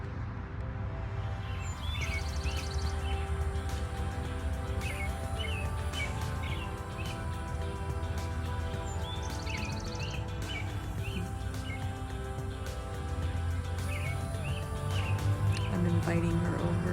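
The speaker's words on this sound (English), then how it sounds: "Now we've got a beautiful red bird coming over. I don't know if you can hear her beautiful song." A red songbird sings repeated bright, whistled phrases at a moderate distance over a steady low background rumble.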